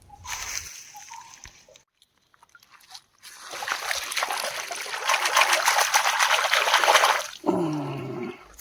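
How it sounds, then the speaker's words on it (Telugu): Wild crabs caught in a forest stream are rinsed in cold running water, producing a steady trickling, splashing wash that swells and holds for several seconds after a brief quiet gap, with sloshing bursts near the end. "వాగులో పట్టిన అడవి పీతలను శుభ్రంగా కడిగాము."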